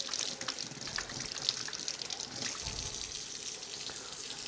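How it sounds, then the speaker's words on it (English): Water runs steadily from a kitchen tap during sourdough bread making, a soft continuous splashing stream heard fairly quietly on its own. "Introducing a little bit of water like this won't hurt anything"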